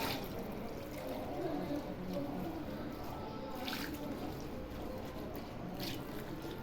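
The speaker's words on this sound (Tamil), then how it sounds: "இப்போ தண்ணி விட்டுக்கலாம்." Water poured into a pot of goat intestine curry (kudal kuzhambu), a continuous splashing, sloshing flow close by in a kitchen, steady throughout with faint background noise.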